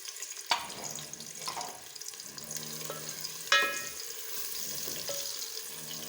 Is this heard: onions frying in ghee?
yes